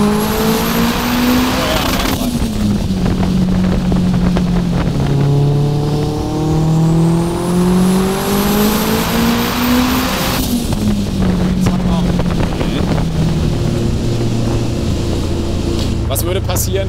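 A tuned 700 hp VW Polo sleeper car drives hard with its drift function active, the engine revving up and down through gear changes in a loud, continuous roar, with people talking over it inside the car.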